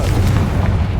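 A Confringo blasting spell detonates in Hogwarts Legacy, a loud, deep, rumbling boom that fills the whole second with no pause.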